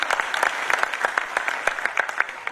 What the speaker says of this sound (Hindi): मेरा मन है एक बार और जोरदार तालियां उसके खाते में जाए।